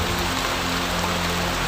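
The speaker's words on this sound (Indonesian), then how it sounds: "Wuhui, hujan." Steady rain pours down in a dense, even hiss, loud and constant throughout with no voices.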